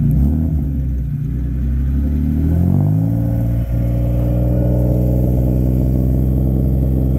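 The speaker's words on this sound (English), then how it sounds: "Rev it to 2000 there." Car engine in drift-day preparation, revved to around 2000 rpm and held, a loud steady mid-pitched drone that climbs once and then settles into a sustained rumble.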